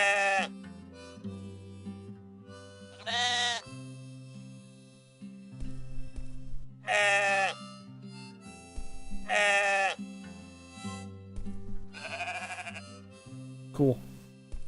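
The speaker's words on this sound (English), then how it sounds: "that's a classic bah variation" Sheep in the video game Moirai bleat in repeated loud, wavering calls spaced a few seconds apart over a droning game soundtrack, with a person talking in between.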